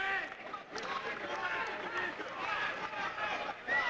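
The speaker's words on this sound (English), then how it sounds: "You can hear some of the boos of the crowd" A wrestling match crowd booing, a continuous mass of voices filling the arena under close commentary speech that runs throughout.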